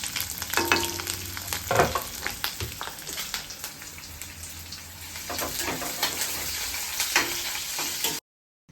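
Chopped onion and green chillies sizzle loudly in hot tempering oil for shavige upma, with a steady crackling fry and intermittent scrapes of stirring before the sound cuts off abruptly.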